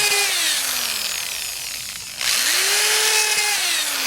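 A power drill pre-drilling a hole through lumber for a raised garden bed frame: a loud close whine that sags and fades as the bit loads, stops briefly, then spins up again and runs steadily.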